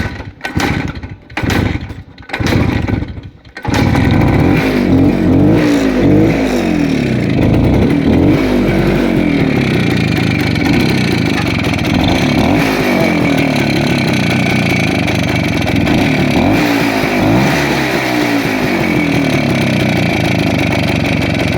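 A motorcycle engine in Fergana's Oltariq, running low on fuel, sputters through a few short bursts, then catches and runs loud and steady up close, its pitch rising and falling as it revs.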